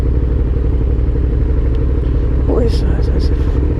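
Loud, steady engine rumble from a Kawasaki ZZR 1400 motorcycle, close by and continuous throughout, with a man's brief question spoken over it.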